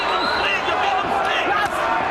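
A boxing arena crowd roars steadily to rouse a fighter, a dense wall of cheering and shouting from many voices that holds at an even level for the whole moment.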